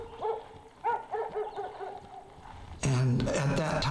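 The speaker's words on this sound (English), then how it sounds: "the dog gets more intense in his barking." A dog in a wooded area during a tense standoff barks several times in a quick, uneven series at moderate distance, then a louder, harsher burst of sound cuts in near the end.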